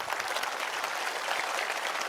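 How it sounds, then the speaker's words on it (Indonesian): An audience at a religious lecture claps steadily, a dense, even patter of many hands held at a moderate level throughout. "ayo tepuk tangan dulu."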